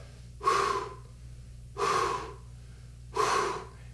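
Three separate breathy rushes of air blown through a trombone lead pipe, each about half a second long and evenly spaced, with a hollow, slightly resonant tone and no pitched note.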